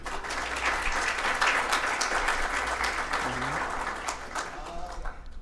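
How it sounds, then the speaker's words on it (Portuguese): Audience applause welcoming a speaker to the stage at a lecture, dense sustained clapping from a seated crowd with a brief voice murmuring underneath, tapering slightly at the end. "Uma salva de palmas, por gentileza."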